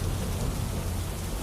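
Heavy rain pouring down at the Ambaji pilgrimage town in Gujarat, a dense, steady roar of rainfall that stays loud and unbroken throughout, with no voices.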